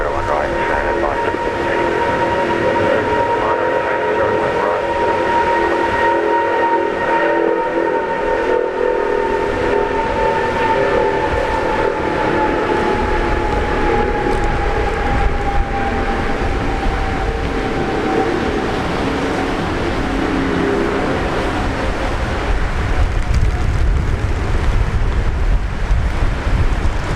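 A Delta A350 airliner takes off at Brisbane Airport, a steady, loud, broad jet roar holding constant throughout with a sustained engine whine sliding slowly downward in pitch.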